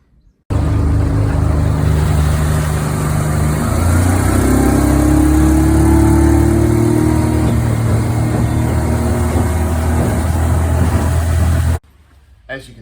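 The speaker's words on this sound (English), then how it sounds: "As you can see, the outboard's running really well now." Mercury EFI outboard motor running steadily in the water, a loud close continuous engine drone with a brief shift in tone midway, then cutting off near the end.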